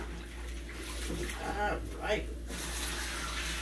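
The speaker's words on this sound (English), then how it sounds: "let me wash my hands" Tap water runs into a kitchen sink while hands are washed, a steady close hiss and splash with a brief change in the flow, under a short word spoken by a man.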